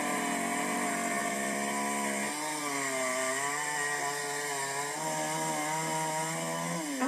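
A chainsaw cuts through a large animal carcass on Waiheke Island. The engine whines loudly and steadily, and its pitch dips and shifts as the blade takes the load. No one speaks.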